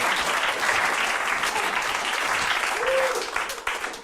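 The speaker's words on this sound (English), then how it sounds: "Give her a round of applause." A live stage show audience gives a full round of applause, dense and loud, sustained for several seconds with a brief whistle partway through and claps thinning slightly near the end.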